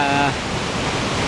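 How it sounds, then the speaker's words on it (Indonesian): Water crashing steadily at a hidden waterfall in Batulantang village, a dense, even roar filling the whole clip, with a brief voice at the very start. "saya berada di air terjun Desa Batulantang"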